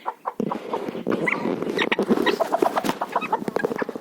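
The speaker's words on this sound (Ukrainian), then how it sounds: "Заховався пітушок, гріється під курочкою." Chickens cluck busily at close range in a Ukrainian village farmyard, with a hen and rooster huddled together; a steady run of short, overlapping clucks and calls with no talking.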